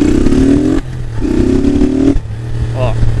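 A motorcycle engine is heard up close while the rider eases down through the gears, its drone dropping and rising again between shifts. Someone talks over the engine throughout.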